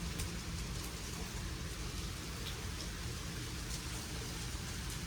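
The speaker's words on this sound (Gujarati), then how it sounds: "અત્યારે આવે છે ફૂલમ ફૂલ વરસાદ" Heavy monsoon rain falls steadily outdoors in Gujarat, a dense, even roar of drops hitting surfaces with no break across the whole stretch, fairly distant and without any voices.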